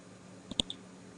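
A computer mouse clicks on a spreadsheet column heading, a couple of quick, faint, close clicks in a quiet room.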